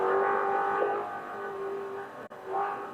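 A SCORE Baja 400 off-road race vehicle runs flat out in sixth gear along a beach side, its engine a steady, sustained drone that swells slightly, heard from a moderate distance with no talk.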